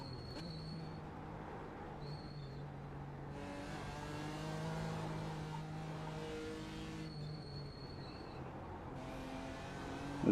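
A race car driving a hot lap on cold tires, heard from on board: the engine note climbs steadily and drops back through gear changes, a continuous droning roar at moderate level.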